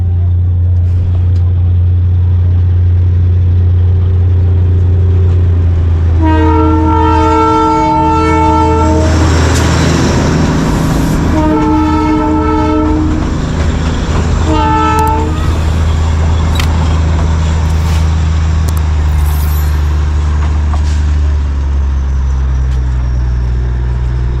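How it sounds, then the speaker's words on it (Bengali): A toy train horn blares in repeated long blasts over a steady low rumble of the narrow-gauge train drawing closer in Darjeeling, with faint voices in the background. "সামনেই আসছে টয় ট্রেন।"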